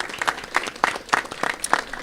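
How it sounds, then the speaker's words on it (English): Applause for students at a Brooklyn borough event, heard as irregular bursts of claps from a modest group, fairly close and separate rather than a dense wash. "So again, a big round of applause for our amazing students."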